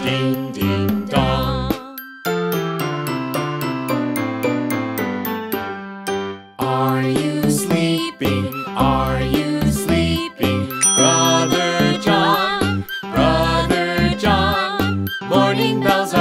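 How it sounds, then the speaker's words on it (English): Bright bells chime and jingle through a lively children's nursery-rhyme song at an outdoor park stage play, set in steady rhythmic bursts over full instrumental backing. "Morning bells are ringing, morning bells are ringing."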